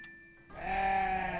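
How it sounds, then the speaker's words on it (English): A cartoonish sheep sound effect in a puppet show game, heard after a short electronic tone: a single loud, wavering bleat that starts at mid-clip and holds to the end. "A sheep."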